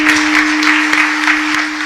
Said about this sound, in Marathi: तुम्ही टाळ्या सुद्धा माझ्यावर उपकार केल्यासारख्या वाजवताय